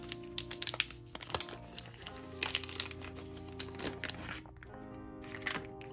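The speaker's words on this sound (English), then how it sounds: "I guess not unbox, unwrap the camera." A DJI Osmo Action 4 action camera being unwrapped from its packaging, with close, crisp crinkling and rustling of wrapping in irregular bursts, quiet overall.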